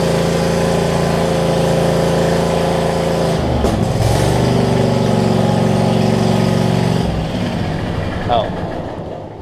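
Troy Bilt Mustang zero-turn mower engine running loud and close with its muffler fallen off, a steady raw droning idle that dips briefly, then continues and fades slightly toward the end; a voice speaks over it.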